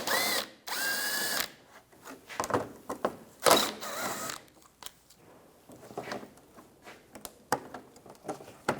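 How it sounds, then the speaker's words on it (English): A 10mm socket ratchet clicks in short bursts as bolts come off the front shield of a 2004-2009 Toyota Prius, close and sharp with brief gaps between bursts and no talking. "Use a 10mm socket. There's bolts on the front. Take those out."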